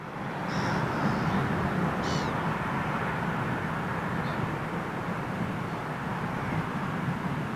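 A United Boeing Dreamliner jet airliner gives a steady, broad roar that holds at a constant loud level throughout, with a few faint bird chirps above it.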